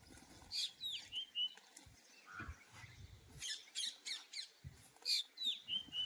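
Sparrows chirp while rice is scattered on the ground for them: bright, close chirps and squawks in short bursts, with rustling between calls and no talking.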